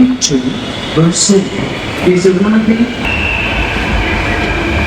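A Mumbai metro train rumbles steadily in a crowded station, its hum filling the space while people talk over it near the start.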